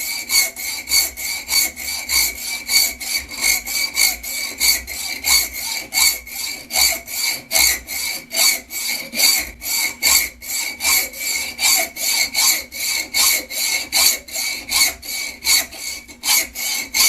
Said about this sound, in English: I just cut it off with a hacksaw